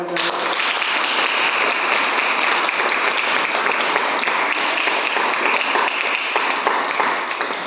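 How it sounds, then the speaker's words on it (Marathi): Loud, continuous applause from a crowd welcoming guests at a birthday celebration for a boy named Sairaj Kashid at an institution, steady dense clapping filling the whole stretch. "तर त्यांचं स्वागत आपण जोरदार टाळ्या"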